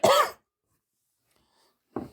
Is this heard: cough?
yes